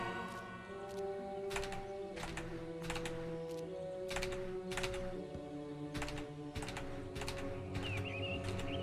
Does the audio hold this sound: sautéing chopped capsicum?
no